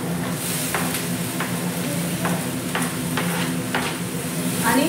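Tomatoes sizzle in a hot pan just after going in, a steady bright frying hiss broken by several sharp stirring scrapes and clicks spaced through the sound, with no talking.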